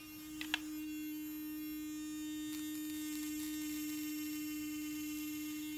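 An electric facial hair trimmer hums with a steady, fairly quiet buzz as it glides across the face, with a couple of small clicks at the start and the tone running unbroken throughout.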